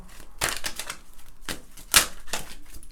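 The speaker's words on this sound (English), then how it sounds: "I'm going to shuffle these cards" Tarot cards being shuffled by hand give a series of crisp, papery rattling bursts with short pauses between them. One sharper snap stands out near the middle, and nobody talks.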